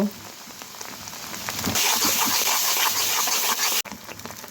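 Onion and garlic paste dropped into hot oil, a broad crackling sizzle that swells loud partway through and holds steady, with faint kitchen clatter and no talk.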